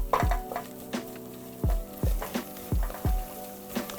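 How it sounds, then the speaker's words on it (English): Roux being stirred in a pan for gorgonzola mac and cheese: a utensil knocks and scrapes against the pan in about eight distinct strokes at an uneven rhythm, close and clear, with a soft sizzle beneath. "I want to continue to stir it, move it around a little bit, make sure it doesn't stick and burn"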